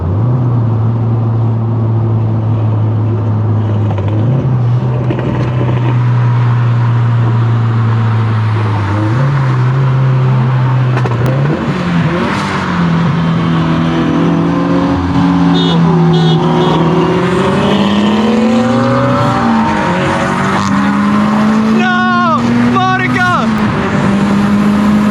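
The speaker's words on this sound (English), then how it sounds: "I want to race this Supra." Turbocharged Subaru BRZ with a loud exhaust pulls hard alongside a MK5 Toyota Supra, its engine droning and climbing through the gears in steady, sustained acceleration, with people talking over the roar.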